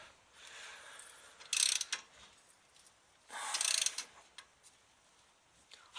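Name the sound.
socket wrench torquing Dodge Ram hub bolts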